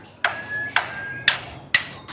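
A lyrebird imitates a hammer, giving four evenly spaced, crisp knocks with a faint ringing tail, close and clear over a quiet background.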